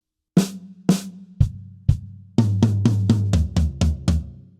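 A short drum fill on a kit: a few spaced tom and snare hits, then a rapid run of strokes cascading down the drums, loud and close.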